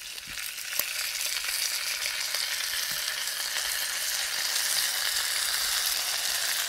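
Food sizzles and fries in a pan over a wild-camp breakfast in the forest, a close, steady crackling hiss that runs unbroken with no talking.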